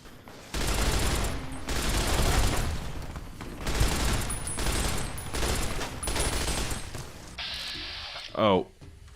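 Automatic gunfire from the player's weapon in Fallout: New Vegas, loud sustained bursts of rapid shots in several long runs separated by short gaps, with a speaking voice at times underneath.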